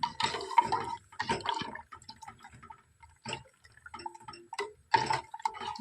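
Rice boiling in a pot on a kitchen stove during iftar cooking, giving irregular soft bubbling pops and ticking drips close by, with no talking.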